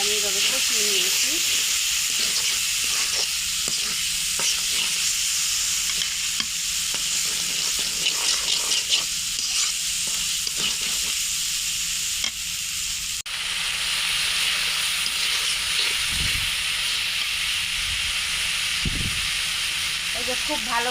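Fish roe and spices fry in a pan, a steady loud sizzle and hiss with intermittent stirring scrapes, continuing under a voice talking.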